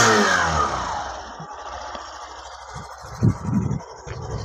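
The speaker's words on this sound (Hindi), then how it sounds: "आइडल पे इतना इसका साइलेंसर जो है, एग्जॉस्ट नोट ऐसी आवाज़ है, अगर मैं तेज कर दूँ तो सुनना" A Hero Glamour motorcycle's exhaust revs up loudly at first, then settles into a steady idle with a few short blips of throttle, heard close with no talking.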